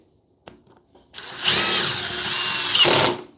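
A DeWalt 20V DCS438 cut-off tool and a Milwaukee M12 2522 cut-off tool spin up after a few clicks, giving a loud, close, high whine that holds steady for about two seconds and then winds down.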